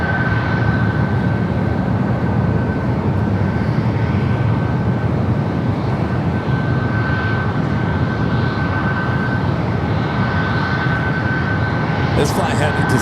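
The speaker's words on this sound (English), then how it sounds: "This flight headed to Seattle, Alaska Airlines flight 591, 737 at max 9." Alaska Airlines Boeing 737 MAX 9 jet at San Francisco airport, a loud continuous engine roar with a steady whine, sustained throughout without breaks.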